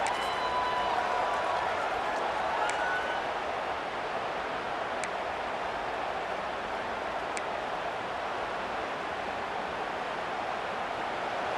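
Stadium crowd noise in College Football 26, a steady broad roar sustained through the whole stretch at even loudness, with a few faint sharp accents and no clear talk.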